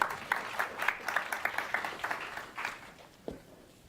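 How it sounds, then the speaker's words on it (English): An audience at a security conference applauds to welcome the speakers, a moderate, fairly distant patter of clapping that fades out after about three seconds. "So why don't we give them a great welcome and a round of applause"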